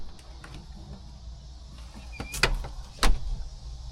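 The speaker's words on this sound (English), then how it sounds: "I'm gonna shut the door." A house door pushed shut, a couple of close, sharp knocks of the latch and frame near the end after a few quiet seconds of faint rustling.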